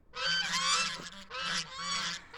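Geese honk loudly and close by in two bursts of overlapping calls, with a short pause between them.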